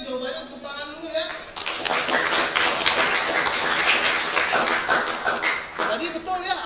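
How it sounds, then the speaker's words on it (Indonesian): A classroom of students claps in applause after a teacher asks for it. Rhythmic, fairly loud clapping fills most of the clip, with a teacher's voice before it starts and a voice again as it ends. "Oke, bagus ya jawabannya, tepuk tangan dulu ya."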